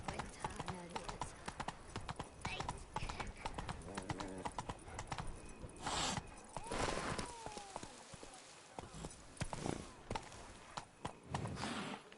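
Rapid clip-clop of Roach's hooves in The Witcher 3, steady trotting and galloping rhythm up close, mixed with game sounds and occasional voices talking over it.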